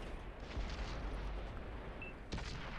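A single tank cannon shot from World of Tanks on Xbox 360, on the Ensk map, sounds as a sharp boom over faint, rumbling battle ambience.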